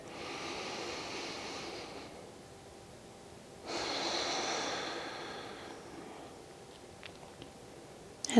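Two long, slow yoga breaths drawn close up, each a soft airy rush that swells and fades in a quiet room, with a pause between them and no talking.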